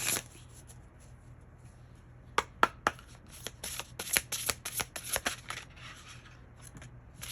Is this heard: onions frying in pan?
no